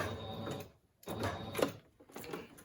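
A sewing machine runs in short bursts while stitching a zigzag around a glued book cover, with rapid mechanical clatter separated by brief pauses, close and moderately loud.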